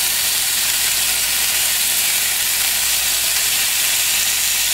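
Steak sizzles steadily in a hot pan, a loud continuous broadband hiss and crackle with no pauses or talk.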